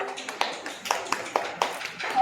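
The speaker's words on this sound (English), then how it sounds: "Okay, clap for yourself." Children in a classroom clapping for themselves, a run of sharp, fairly even claps close by, with quieter taps and chatter in between.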